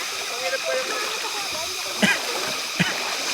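A river crossing on a mountain hike to Mt Irid gives a steady rushing flow of water with a couple of sharp splashes, heard fairly close and alone.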